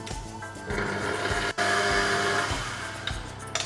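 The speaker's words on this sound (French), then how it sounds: "Et je remets ça à pétrir un peu plus délicatement." A mixer kneads pastry dough of flour and baking powder for a tarte tatin, producing a close, steady motor whir with a rhythmic churning texture and one brief dropout midway.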